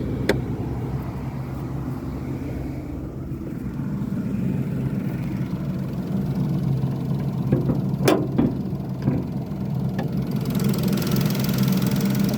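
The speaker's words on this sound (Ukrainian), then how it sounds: "Зараз я вам покажу" A 2018 Renault Sandero Stepway engine idles steadily with a low, even rumble, close and continuous, with a few faint clicks and knocks on top.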